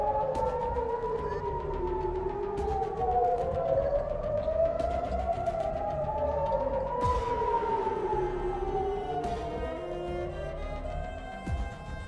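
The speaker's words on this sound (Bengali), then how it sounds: "পাল্টা হামলার আশঙ্কায় জেরুজালেমে সাইরেন বাজতে দেখা গেছে" Air raid sirens wail across Jerusalem, several rising and falling tones overlapping in slow sweeps, loud and sustained, with a few brief clicks and no talk.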